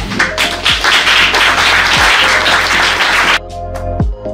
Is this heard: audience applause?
yes